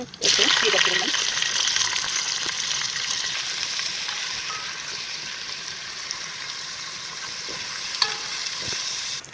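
Onions and spices fry in a pan for a dried-fish bhuna, giving a continuous loud sizzle and hiss that is strongest at the start and then settles into a steady fry, with a voice briefly audible.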